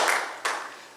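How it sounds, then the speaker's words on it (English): Church congregation clapping in praise, the tail of a fading wash of applause with one sharp, distinct clap standing out near the middle before dying away. "Give the Lord a hand clap of praise."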